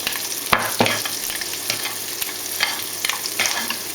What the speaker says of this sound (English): use your spoon while it's cooking. Baste it with the oil.